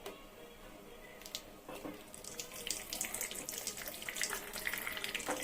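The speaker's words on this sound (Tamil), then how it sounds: "இதை ஃபில்டர் பண்ணி எடுத்துக்கலாம்." Blended jamun juice being strained through a filter at home, a wet pouring and trickling of liquid through mesh that starts faint and grows steadier and louder over a few seconds, with no talk.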